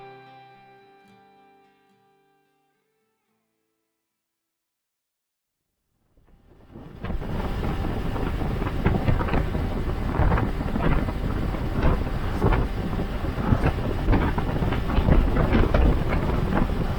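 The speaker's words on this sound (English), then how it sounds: "The gusty wind has really ramped up as we pick our way over the more elevated and exposed section" Strong gusty wind buffets the microphone while riding a small-capacity V-Strom 250 motorcycle two-up over an exposed, elevated section of mountain range. It rises abruptly after about six seconds of near silence, then roars loud and steady with no talk.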